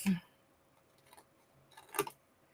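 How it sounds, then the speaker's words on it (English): Scissors cut the handles off a paper basket in a few sharp, close snips, one at the start and another cluster later, with quiet pauses between and no talk. "So if it has a handle, I'm cutting them off."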